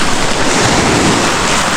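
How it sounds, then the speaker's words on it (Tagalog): Strong ocean waves surge and roll onto a beach in a steady, loud, continuous wash of surf, with wind buffeting the microphone throughout and no clear voices. "Ay malakas yung alon."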